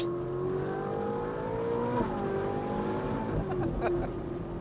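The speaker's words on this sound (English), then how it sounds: "And the downshifts are like." A Ferrari 458 Italia V8 with a Novitec valved sport exhaust downshifts from inside the cabin, its steady engine tone sagging in pitch as revs change, then blipping sharply with pops at the shift.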